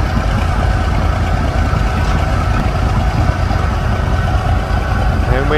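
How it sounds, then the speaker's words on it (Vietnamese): Motorbikes and cars idling in stalled traffic on a busy street, a continuous close engine rumble with a voice talking over it. "Bây giờ ở ngoài đường phải chờ như thế này nè. Xe máy, xe mô tô, ô tô"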